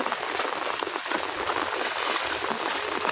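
Heavy rain pours down steadily, a dense unbroken hiss of drops hitting the surfaces nearby.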